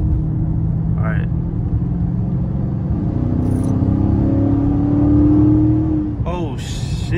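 A loud widebody Scat Pack car engine in track mode revs and climbs in pitch, holding a strong rising drone before easing off, with someone talking over it.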